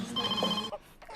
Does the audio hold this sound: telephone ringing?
yes